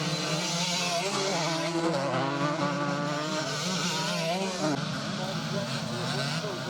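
Scramble race motorcycles roar along a dirt track at a classic scramble meeting, their engines droning and revving continuously with shifting pitch, loud and sustained under a commentator's voice.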